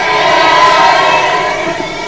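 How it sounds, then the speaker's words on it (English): Crowd noise at a Red Bull Air Race event in Paris, a steady wash of many voices cheering and shouting at a distance, sustained and even throughout with no single voice standing out. "Crowd are right behind him though"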